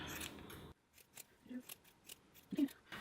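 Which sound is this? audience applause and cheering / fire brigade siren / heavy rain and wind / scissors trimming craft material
scissors trimming craft material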